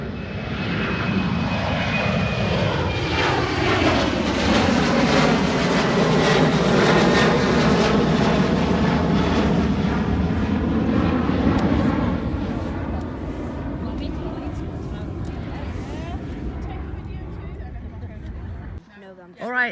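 Airplane taking off and climbing at Newcastle airport: a loud, sustained engine roar with a falling Doppler whine as it passes and fades into the distance.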